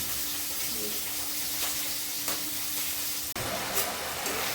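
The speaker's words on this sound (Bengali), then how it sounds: "এইদিকে আমার মশলা কষানো হয়ে গেছে প্রায়।" Spices fry in a pan with a continuous loud sizzle and hiss, a faint tone running underneath, then a sudden brief dip as the sizzling surges back more brightly.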